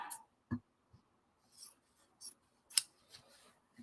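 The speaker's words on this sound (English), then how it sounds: "I am going to trim it to fit." Scissors snip through fabric being trimmed to fit for a tabard, a handful of quiet separate cuts with short gaps between them.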